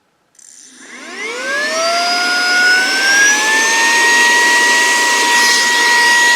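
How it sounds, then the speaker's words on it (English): A Saker 3-in-1 handheld vacuum cleaner switches on and spins up with a rising whine, then settles into a loud, steady, high-pitched motor drone close by. "For vacuuming all those little crevices in your car."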